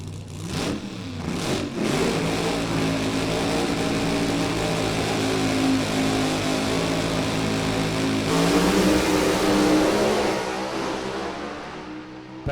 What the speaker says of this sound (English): Our final 2 funny cars, Alcohol Dragster coming in right behind